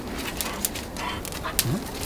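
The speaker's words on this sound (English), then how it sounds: "He's a nice dog." A dog whimpers with a rising, plaintive whine and gives a few faint, short barks, heard at close range near a wood fire at an off-grid maple syrup camp.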